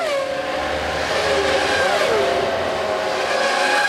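Formula 1 cars of the 1996 season, a Williams-Renault and a Ferrari, scream through the pit lane with high-pitched engine whines that rise and fall, one sweeping pitch change midway, loud and close over background crowd noise.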